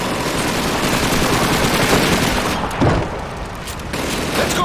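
Submachine gun fire in Call of Duty 2 during Red Army training, a loud and sustained barrage of rapid shots with booming reports layered over a dense battlefield roar.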